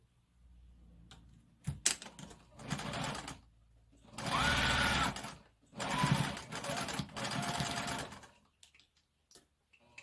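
A sewing machine stitches the hem of a sequined prom dress in several separate runs of rapid mechanical whirring, broken by quiet pauses and small handling clicks between bursts.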